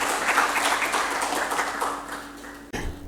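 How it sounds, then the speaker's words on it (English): An audience at a gathering welcoming new members gives a round of moderate applause that thins out, then ends with a sudden knock or handling bump. "And now we can give a round of applause to all of"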